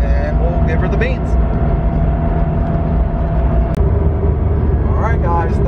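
A tuned VW Golf R Mk7 cruises in third gear, its engine a steady, close droning hum from inside the car. The level stays even, with a faint voice now and then.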